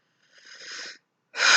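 A deep, slow breath during a relaxation tapping exercise, a soft airy inhale that swells and fades, then a brief pause and a louder, rushing exhale, close and with no talking.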